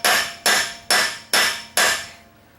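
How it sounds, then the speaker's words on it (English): Five evenly spaced metal hammer blows drive a 15/16 socket onto a wheel lock nut, each strike ringing sharply and then decaying, close and loud with no talking. "we're going to hit it on there nice and tight"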